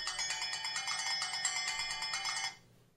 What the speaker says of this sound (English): You can of course choose a ringtone